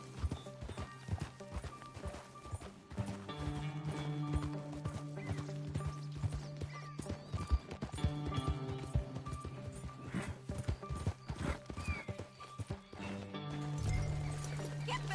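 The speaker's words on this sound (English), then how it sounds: "Get back on your horse, John." Rhythmic hooves clip-clop steadily over a bed of Red Dead Redemption 2 game music, with a horse snorting and whinnying now and then.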